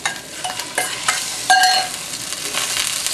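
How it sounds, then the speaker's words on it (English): Ginger and garlic stir-fry in a wok, crackling and sizzling up close while a utensil scrapes and tosses them in repeated bursts, with no talking. "Stir a little bit until they're fragrant"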